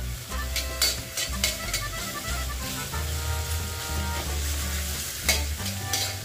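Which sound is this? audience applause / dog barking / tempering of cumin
tempering of cumin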